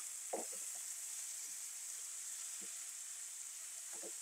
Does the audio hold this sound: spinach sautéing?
yes